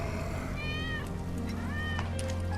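Cat meowing in the Final Fantasy VII Remake video game, two drawn-out rising meows heard clearly over a low background hum, with no talking.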